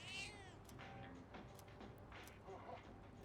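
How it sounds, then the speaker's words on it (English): A cat in the Persona 3 Reload video game, sounding close and fairly loud over a steady low rumble, with short meow-like calls breaking in at intervals and a voice speaking underneath. "The cat is purring loudly."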